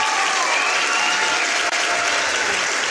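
A live audience bursts into sustained applause, dense steady clapping filling the whole moment at close range with no pauses.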